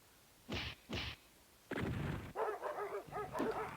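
Dogs in the Three Dirty Dwarves Sega Saturn game give two short separate barks, then a louder run of yelping, whimpering barks crowding together, close and clear.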